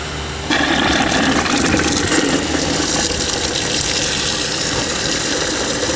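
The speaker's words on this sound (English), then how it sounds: "Let it fill up the container." Water gushes steadily from a filter flush hose into a container during a water filter unboxing, a loud continuous rushing pour starting abruptly after a brief lower trickle.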